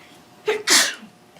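A single sharp sneeze in a quiet Board of Education meeting room, a short intake followed by a loud burst, alone with faint room hum.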